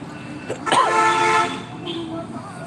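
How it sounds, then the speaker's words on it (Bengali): A night coach bus on a road near a rail crossing passes close by with a loud tonal horn blast lasting about a second, followed by fading traffic rumble while someone talks. "ওই যে মোটর সাইকেল যাচ্ছে বাস যাচ্ছে"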